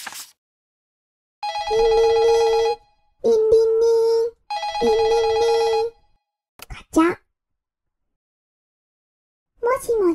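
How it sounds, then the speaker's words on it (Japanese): A synthesized telephone ring sounds in three loud bursts, followed by a short clunk of a receiver being picked up. A voice then speaks briefly, and another short voice sound comes at the end. "リンリンリン、ガチャ。もしもし？もしもし？"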